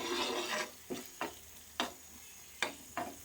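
Masala for a hotel-style fish fry being stirred in a pan, with several short, distinct scraping strokes of a spoon against the pan over a soft, steady sizzle, close and fairly quiet.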